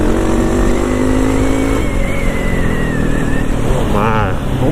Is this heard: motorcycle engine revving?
yes